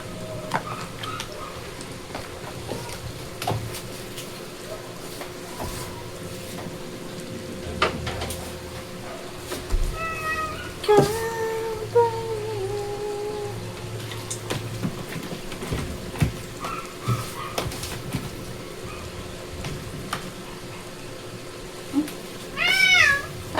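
Cats meowing in a home kitchen where coconut-leaf laing is being fried, cries coming in short bursts mid-way and again near the end over a steady background hum and faint cooking noise.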